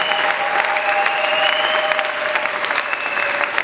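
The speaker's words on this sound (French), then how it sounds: "Acclamons le nom de Jésus." A church congregation at an evangelical service claps and cheers loudly in acclamation, with sustained applause and a steady tone ringing beneath the crowd.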